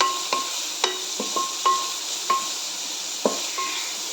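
Chicken mixture being stirred in a pan, with a soft, steady sizzle and repeated light scrapes and clinks of a utensil against the pan, close by, with no talking.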